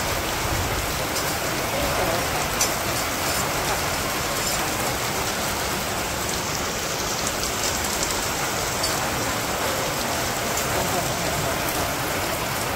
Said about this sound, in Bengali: আজকে মোটামুটি সারাদিন বৃষ্টি